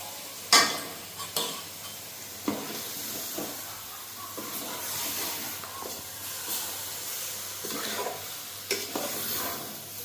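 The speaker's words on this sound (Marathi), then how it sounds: "व्यवस्थित परतून घेऊया" Chicken coated in masala is stir-fried in a pan for chicken 65 or Malvani curry, with a soft sizzle under repeated sharp spatula scrapes and clanks at irregular intervals, and no voices.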